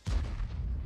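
A single deep artillery boom from World of Tanks, a sudden heavy low blast that rolls off over under a second, close and loud with no talking.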